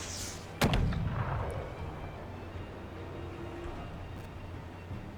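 A single loud artillery gun shot rings out in the tactical video game Menace, a sharp blast followed by a long rumbling decay that fades into a low ambient background.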